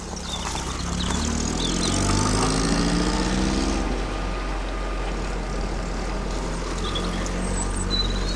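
A 1950s car engine idling while warming up, either a Renault 4CV or Standard 8: a steady low rumbling idle heard close and continuous, with a faint hiss layered over it.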